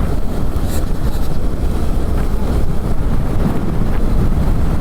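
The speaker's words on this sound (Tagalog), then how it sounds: "Pero yung hangin na yan oh, matindi yan." Strong, steady wind roars across the microphone throughout while riding a motorcycle from Cubao to Balintawak, a loud buffeting rumble with no letup.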